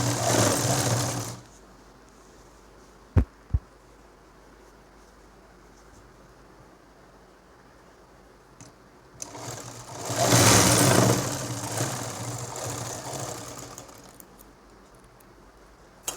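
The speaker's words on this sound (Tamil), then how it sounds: "நாடா வச்சு இப்போ தைக்க போகிறோம்" A sewing machine stitches tape onto a nightie at home in two runs, a loud whirring burst at the start and a longer one midway, with quiet pauses and a couple of sharp clicks between.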